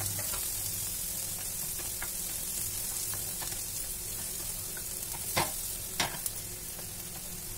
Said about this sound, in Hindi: प्याज को अच्छे से भून लूंगी और फिर मैं इसमें डाल दूंगी 1 हरी मिर्च।